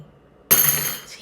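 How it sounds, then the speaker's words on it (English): Rings dropping onto a vertical wooden dowel in a homemade Montessori toddler toy give one bright clink with a short ringing tail, close and clear after near silence. "see how that makes it satisfying little clinking too"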